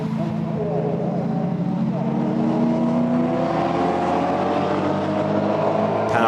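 GT4 race cars, a Chevrolet Camaro and a BMW, racing uphill at the Nürburgring, engines roaring loud and continuous with rising pitch sweeps through gear changes, close and sustained throughout.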